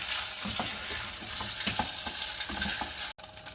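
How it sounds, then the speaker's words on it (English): Ada rice flakes roast in hot ghee with a steady, close frying hiss, broken by soft scraping stirs throughout and a brief dropout just before the end. "so we're going to put in the ada. Okay, just roast it for about 3 to 4 minutes"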